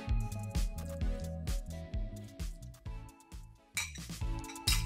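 A metal spoon clinks repeatedly against a steel bowl or jar while batata vada masala mix is added, giving bright ringing taps in a quick irregular rhythm, close by.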